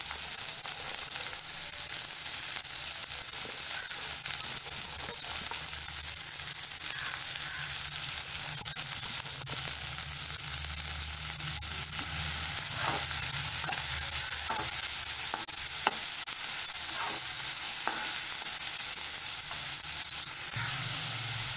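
Chopped onion sautés in a hot pan with a steady, close sizzle, broken by light scraping and clicks of stirring throughout.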